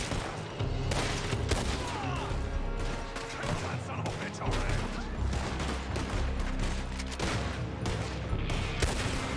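Rapid gunfire in Red Dead Redemption 2, a dense volley of sharp shots cracking repeatedly over a continuous background, with occasional voices underneath.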